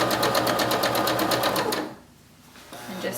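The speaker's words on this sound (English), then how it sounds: "just continue sewing along" A sewing machine stitches patchwork quilt squares in a chain, its fast, steady needle rhythm running loud and close, then pausing briefly before starting again.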